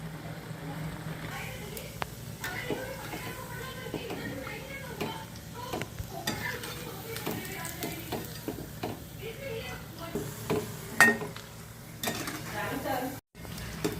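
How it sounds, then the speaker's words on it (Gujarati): Sabudana vadas made from sago flour frying in hot oil in a pan, a steady close sizzle with occasional utensil clinks and stirring scrapes, while a voice talks intermittently. "પલટાવ્યા પછી ગેસ આપણે થોડો ફાસ્ટ કરીશું અને એને ગોલ્ડન બ્રાઉન સુધી તળીશું."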